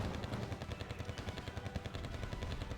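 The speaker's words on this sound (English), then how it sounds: "Firing everything they got. Grenade launchers, machine guns even at the infantry." Machine gun and grenade launcher fire from the Wargame Red Dragon video game, a dense rapid rattle of repeated shots, steady and fairly quiet, with no talking.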